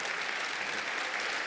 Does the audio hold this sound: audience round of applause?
yes